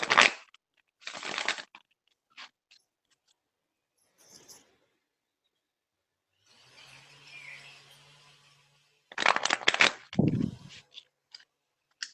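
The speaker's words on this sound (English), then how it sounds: "Give this a shuffle." An oracle card deck is shuffled in a few separate bursts of crisp, riffling card noise close to the microphone, with quiet gaps and a soft rustle between them.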